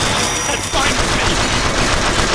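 Video game weapon firing, a loud, dense burst of rapid automatic gunfire that keeps going without a pause.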